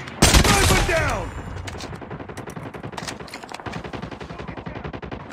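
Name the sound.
gunfire in Call of Duty video game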